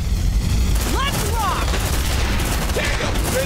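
Rapid gunfire rattles through a tense firefight in Aliens: Dark Descent, a loud continuous barrage of shots layered with creature shrieks and game effects.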